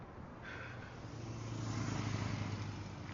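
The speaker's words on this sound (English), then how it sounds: "So he hears the sound of a scooter and goes chasing again." A scooter engine hums steadily with a low droning tone that swells slightly louder partway through, running nearby.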